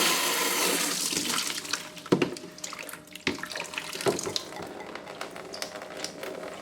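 Water rushes out through two opened valves of a HiFlo DI deionising filter system into a bucket, a steady close splashing gush that eases off, broken by a few sharp knocks and clunks.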